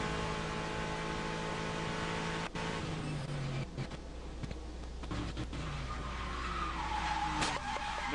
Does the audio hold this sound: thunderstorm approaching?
no